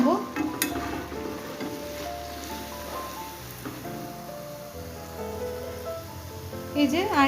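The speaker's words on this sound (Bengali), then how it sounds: "তো এইগুলো একটু এপিট ওপিট লাল লাল করে ভেজে নিই" Lentil fritters fry golden in hot oil in a pan, giving a soft, continuous sizzle that sits under background music.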